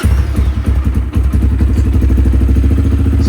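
A Honda CRF230 dirt bike engine running steadily, loud and close, with a rhythmic thumping idle and mechanical clatter that barely varies throughout, no voices over it.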